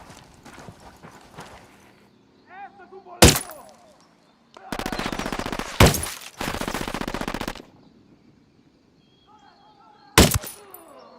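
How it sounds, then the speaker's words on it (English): Gunfire in Ghost Recon Wildlands comes as sharp single shots and two sustained machine-gun bursts of loud rapid fire. Between them, hooves clop and a horse whinnies faintly in the game scene. "I'm opening fire."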